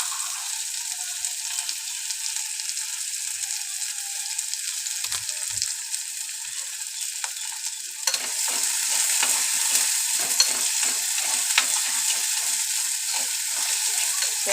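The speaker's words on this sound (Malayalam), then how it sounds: "ചെറുതായിട്ടൊന്ന് വഴന്ന് വരുന്നത് വരെ മൂപ്പിക്കുക" Shallots sauté in oil for a Kerala king fish curry, giving a low continuous sizzle that grows louder and busier halfway, with scattered stirring clicks from a spoon.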